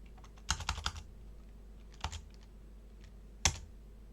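Sparse keyboard typing while a PS4 update file on a USB pen drive is renamed: a short burst of clicking keystrokes, a brief pair of taps, then a single sharper keypress, close and quiet.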